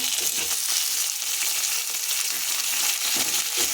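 Onions and tomatoes frying in a pan give a steady, dense sizzle with faint stirring scrapes, close and continuous throughout with no talk.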